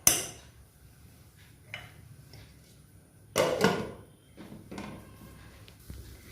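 A pan lid set down on a pan during a student cooking contest, giving a sharp metallic clank with a brief ringing clatter, clear and close amid faint kitchen handling noise.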